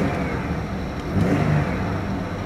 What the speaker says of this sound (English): Rev it up for you.